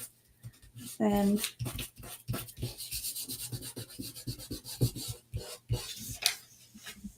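Paper book pages being rubbed and smoothed down onto a surface by hand, soft brushing strokes in an uneven rhythm, quiet and close, with a person talking over it.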